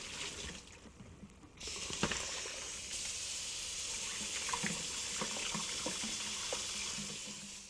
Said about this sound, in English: So let me drain this and put cold water on it so you can stand to touch it.